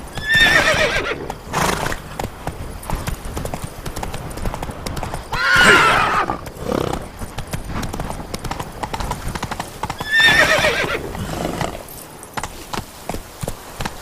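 Horse hooves clip-clop steadily while the animal whinnies in loud bursts every few seconds, mounted riding in The Witcher 3 video game.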